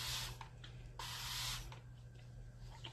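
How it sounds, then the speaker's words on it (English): Alcohol is spritzed from a spray bottle onto the back of a tray in two short hissing bursts, close and fairly quiet, followed by faint rubbing and handling sounds. "And I'll spray the back of my tray one more time."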